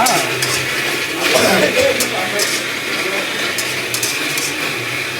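Masala for a biryani being stirred in a pot at a home party feast, with steady sizzling and scraping under a busy, noisy background throughout; voices talk nearby.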